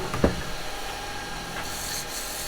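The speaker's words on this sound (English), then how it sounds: "Quick little sand in there." Sandpaper is pressed against an end-grain pine plant pot spinning on a wood lathe, a steady close rasping hiss over the machine's constant hum, with a brief knock at the start and no speech.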